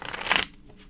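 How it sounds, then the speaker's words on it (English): Tarot cards given a quick shuffle, a brief burst of papery riffling lasting under half a second, then near silence. "One more shuffle for Friday."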